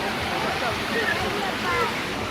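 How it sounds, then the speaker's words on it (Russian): Small waterfalls pour into a busy pool at the Lebyazhiy aquapark, a steady, close, rushing splash with faint crowd noise behind. "И вот такие вот водопадики."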